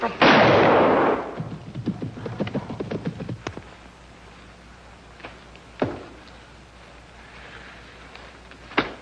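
A gunshot in an old film drama, a sharp single crack that stands out against quiet background hiss, followed by a few softer distant thumps.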